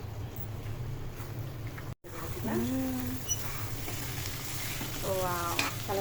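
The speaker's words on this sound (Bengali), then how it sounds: "এখন ভাজা পর্যন্ত একদম ভাজা ভাজা পর্যন্ত এটাকে রান্না করব" Fish sizzles and spits in a hot pan with a steady crackle, while a voice murmurs briefly a couple of times.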